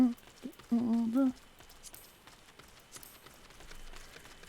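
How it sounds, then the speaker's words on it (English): Rain falling in the video game Final Fantasy 14, a soft, even patter under faint pattering steps, with a short humming or vocal tone early on. "Oh, it's raining in game again."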